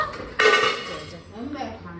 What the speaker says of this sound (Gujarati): જો એક વાસણ અંબાવે છે